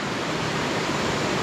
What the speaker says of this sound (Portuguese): Vim no início da cachoeira.